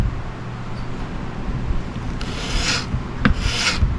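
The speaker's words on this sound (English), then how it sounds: "So now I'm gonna use the paint scraper and scrape off the varnish." Paint scraper dragging across varnished wood, a few rasping scrapes in quick succession, close and moderately loud over a low background hum.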